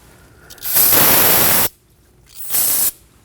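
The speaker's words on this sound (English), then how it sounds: "Using some brake parts cleaner, we're gonna spray the area just to get rid of any of the fluid." Brake parts cleaner sprays onto a Kia Optima rear brake, two loud close hissing bursts, a longer one of about a second and a shorter one after a brief pause, with no talk.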